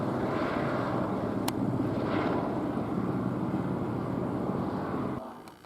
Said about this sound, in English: Why would a medical chopper or maybe a fire chopper be circling around this area?